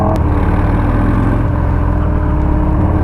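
A 2019 Harley-Davidson FXDR 114 motorcycle engine drones steadily and loudly while riding, a dense low rumble with no pauses or voices over it.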